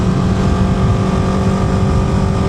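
Steady motorcycle engine drone while riding, a continuous close, loud low hum with wind rush and no talking.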